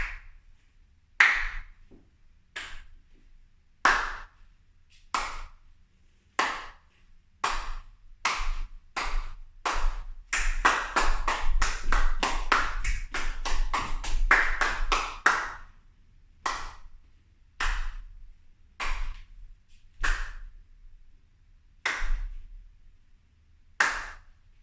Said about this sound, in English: you need to follow the rhythm of my clap